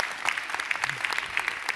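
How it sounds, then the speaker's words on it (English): A conference audience in Taiwan applauds after a speaker's talk, with dense, continuous clapping that holds at an even level throughout the short stretch and no voices over it. "Round of applause, please."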